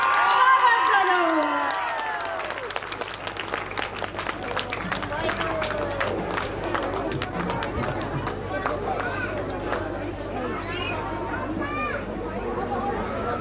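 At a Lakhe dance event, a crowd cheers and claps, with a loud burst of shouting at first and then sustained applause and chatter. An announcer's voice is heard over the crowd.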